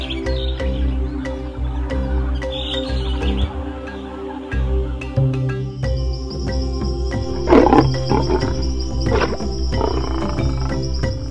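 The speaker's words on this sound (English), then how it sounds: "When a pride of lions hear the roar of a single lion approaching, two lions will go out to meet the lone stranger." A lion roars in the wild, deep and loud, with layered growling tones and birds chirping faintly in the background.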